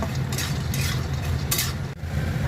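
Lentil dumplings (bori) frying in a pan in a home kitchen, giving a steady close sizzle with stirring scrapes and brief bursts of crackle, no talk.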